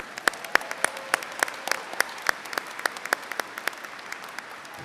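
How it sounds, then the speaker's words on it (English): Audience at a college commencement ceremony applauding, a steady wash of many hands with sharp individual claps standing out, moderately distant and even throughout. "Let's give them another round of applause."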